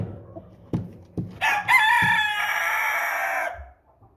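An 18-week-old American Bresse cockerel gives a few short clucks, then one loud, close crow lasting about two seconds before trailing off.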